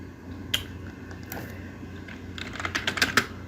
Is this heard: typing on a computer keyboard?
yes